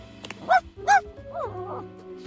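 A dog in a video game gives two short, close barks in quick succession, followed by softer electronic game tones over a steady low hum.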